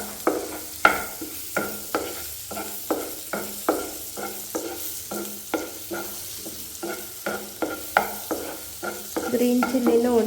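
Green chillies frying in a pan over a low flame, with a steady sizzle under rhythmic, repeated scraping and stirring strokes of a spatula that grow denser toward the end, no voices.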